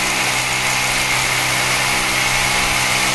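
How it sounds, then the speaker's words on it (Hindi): A power drill boring into a marble slab for dry-fixed wall stone cladding, a steady loud whining grind that runs continuously without pause. "मार्किंग करने के बाद इसको ड्रिल किया जाता है"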